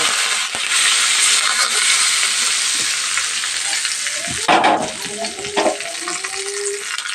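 Curry leaves tempering in hot oil for tomato chutney give a steady, loud hiss of frying, later joined by a few clinks and scraping stirs near the pan.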